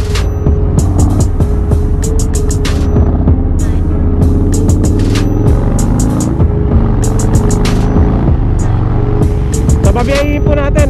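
A 2020 Harley-Davidson LiveWire electric motorcycle rides onto a freeway, its motor giving a loud, close tonal whine whose pitch rises and falls as it accelerates, over steady road and wind rush.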